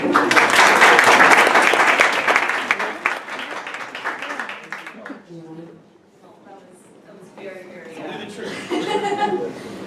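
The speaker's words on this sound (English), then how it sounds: "So please give her a warm round of applause." Warm audience applause at a tech summit swells loudly for a guest speaker, mixed with chuckles and laughter, then fades as a voice begins talking.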